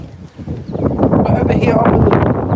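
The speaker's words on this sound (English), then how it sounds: "It is windy, my friends." Strong wind buffets the microphone beside turbulent water in Scotland, a steady loud roar with gusty rushing noise that swells after a brief lull near the start and continues throughout.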